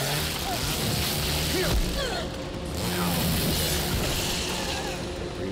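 Mechanical clicks and clacks of a weapon being reloaded in the video game Evil Dead The Game, a brief ratcheting sequence over a background of game noise.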